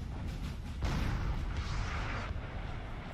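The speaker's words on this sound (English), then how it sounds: "And so we got artillery firing already." Cannon fire from artillery batteries in a Napoleon: Total War battle, heavy booming blasts over a constant rumbling battlefield backdrop, several dull thuds layered together at moderate distance.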